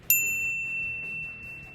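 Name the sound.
notification bell ding sound effect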